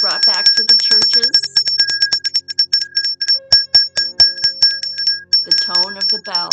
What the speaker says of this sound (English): The bell is being brought back to the churches.